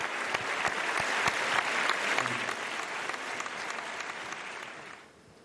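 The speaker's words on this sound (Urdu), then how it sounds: "بہت ساری تالیاں جی, بہت ساری تالیاں" Sustained applause from a studio audience at a Ramzan iftar TV show, a dense steady clatter of many hands that carries on for about five seconds before dropping away abruptly at the end; no talking over it.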